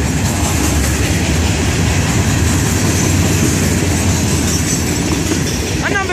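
An FEC freight train rolls past at close range, a loud continuous roar of wheels and rumbling cars with clickety-clack on the rails and a brief wheel squeal near the end.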